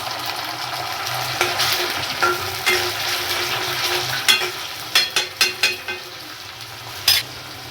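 Masala sizzles and fries in a pan over a low flame after a splash of water, with stirring and a run of sharp clinks and scrapes toward the end.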